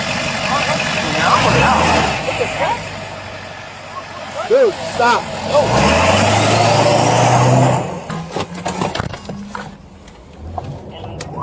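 Car engine idling and revving nearby while people talk loudly and urgently over it, the motor rumbling steadily before tapering off near the end.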